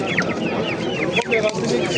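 Chickens and roosters cluck and squawk continuously, close by, amid a busy background of voices and bustle at a livestock bazaar in Namangan, Uzbekistan.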